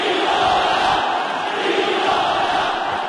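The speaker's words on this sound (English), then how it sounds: "Chanting Viloria's name." A boxing arena crowd chants a fighter's name, a loud, continuous roar of massed voices rising and falling in a steady chanting swell with no break.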